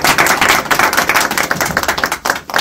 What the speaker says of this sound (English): I want us just to give him a wonderful round of applause right now